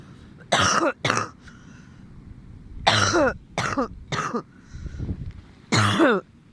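Several sharp coughs and throat clearings come close and loud in irregular bursts, separated by brief quiet pauses.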